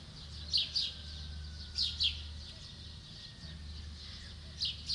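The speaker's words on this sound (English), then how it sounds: "Then the birds wake up." Birds chirp at dawn in Egypt in short bright bursts over a steady low hum, a few calls spaced across the stretch, moderately close.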